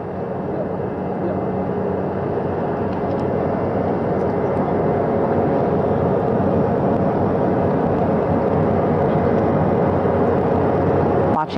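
A helicopter hovering over the flight deck of a recovery ship at sea: a steady, dense rotor and engine drone, continuous and fairly loud throughout, with faint voices underneath.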